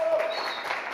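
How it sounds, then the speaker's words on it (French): Studio audience applause, a steady wash of clapping from a crowd that fills the whole second at moderate level with no break. "Applaudissements, s'il vous plaît."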